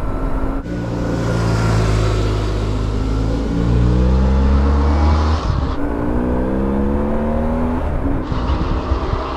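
A BMW R1150GS Adventure motorcycle sweeps past outdoors, its engine note rising loud and near, then falling away as it recedes; it is heard alone, with no voices.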